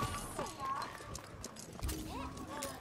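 Hooves clip-clop rapidly as a horse gallops in the Paladins video game, mixed with in-game effects, while a player talks over the action.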